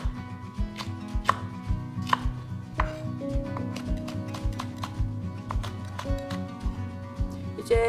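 Steady knife chopping of red chili peppers on a cutting board, rapid rhythmic thuds at close range, with no talking.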